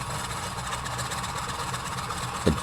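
Sukhoi Su-31 aerobatic plane engine in Microsoft Flight Simulator running at low manifold pressure, a steady low rough drone without dying, ending in a brief louder thump.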